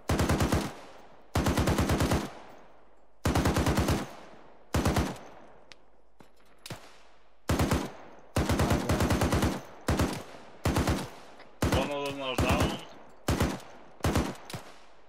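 Close, loud machine-gun bursts from an Arma 3 firefight come in repeated rapid volleys of several shots each, separated by short pauses. One brief radio-like voice cuts in near the end.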